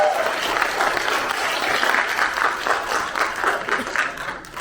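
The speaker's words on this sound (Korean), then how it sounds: "박수 한번 주십시오" Audience applause at a creative pansori performance about Jang Bogo, a steady dense clapping from a crowd that rises and thins across the few seconds, with no speech over it.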